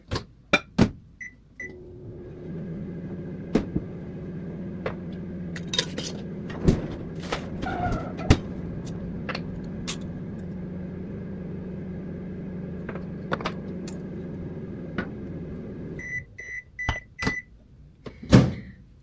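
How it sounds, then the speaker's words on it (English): A microwave oven runs steadily on a thaw setting with a low hum, framed by beeps and the clatter of its door opening and closing before and after the run. "So I just measure it out and put it in the microwave for a little bit."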